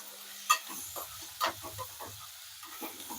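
Chopped onions frying in a hot oil tempering for a Telangana rice flour uppudu pindi, a soft steady sizzle with occasional stirring clinks, close and moderately quiet, no talking.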